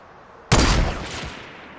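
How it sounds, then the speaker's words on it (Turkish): A single loud sniper rifle shot from the Fortnite video game cracks out sharply, then trails off into a fading, rumbling echo. "Oh, ne güzel vuruyorum sniper'la."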